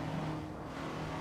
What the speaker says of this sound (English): Once again, we're driving Alfa Romeo GTAs.